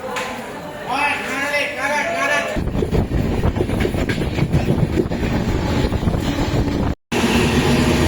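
Train and rail noise in a busy station at New Jalpaiguri, a steady low rumble with clattering under constant chatter of people nearby, then a brief dropout.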